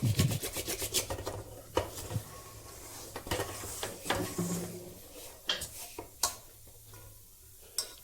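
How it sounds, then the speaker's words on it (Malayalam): A fork stirs and scrapes through dough in a bowl, giving repeated soft rasping strokes and light taps at an uneven rhythm, close and fairly quiet. "ഒരു ഫോർക്ക് വെച്ചാണെങ്കിലേ പെട്ടെന്ന് റെഡിയാക്കി എടുക്കാൻ പറ്റും. എല്ലാം കൂടി ഒന്ന് മിക്സായി കിട്ടും."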